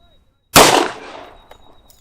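A single sharp 10mm pistol shot fired over a chronograph, loud and close, with a short reverberant tail fading over about a second.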